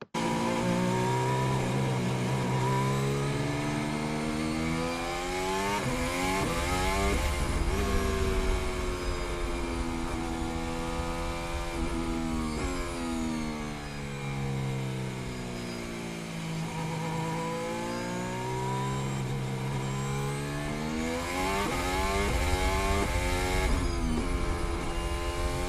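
Formula 1 cars racing through turn 14 at Abu Dhabi in 2021, loud engines howling continuously with pitch rising and falling through gear changes as cars pass, sustained and close throughout.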